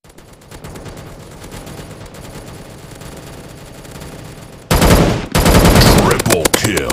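Gunfire from a mobile first-person shooter game: quieter game sounds give way to a loud burst of rapid automatic shots, a brief pause, then more sustained firing.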